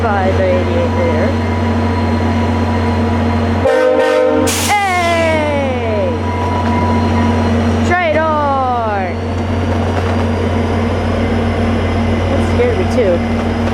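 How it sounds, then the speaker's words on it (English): A VIA Rail passenger train, led by a wrapped F40PH locomotive, sounds its horn in two loud blasts over a constant low rumble of passing rail cars, the pitch sliding as the train moves past. "Good old train horn, guys."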